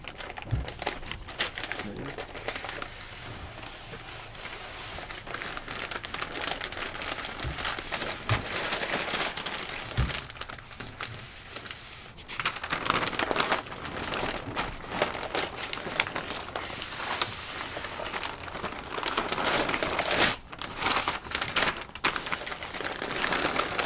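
Crinkling and rustling of stiff butcher paper being folded around a smoked beef chuck roast up close, irregular crackles throughout with occasional soft thumps.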